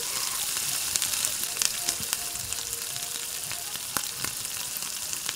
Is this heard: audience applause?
no